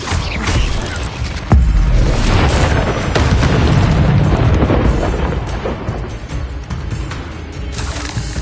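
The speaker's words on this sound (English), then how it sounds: "Incendio!" Fiery spell blasts going off during a Hogwarts Legacy battle, a sharp boom near the start followed by sustained roaring, crackling bursts that keep rumbling loudly throughout, with faint voice-like sounds mixed into the chaos.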